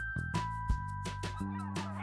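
Wild geese honk repeatedly in a loud, overlapping chorus of harsh calls, several birds close by at a reed bed, with a steady droning undertone.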